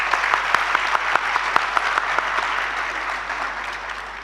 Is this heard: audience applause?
yes